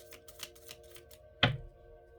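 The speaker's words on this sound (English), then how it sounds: "I can't stop shuffling." Tarot cards shuffled by hand: a run of soft, rhythmic papery taps, then one sharp, louder riffle-snap near the end, close and otherwise quiet.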